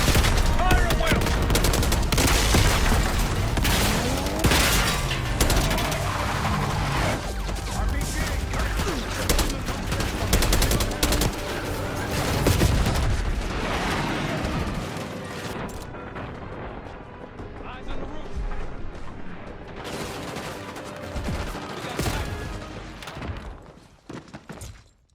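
Dense, continuous video game gunfire in a mission assault on a palace gate, with overlapping rapid bursts, booms and explosions that stay loud before thinning out toward the end.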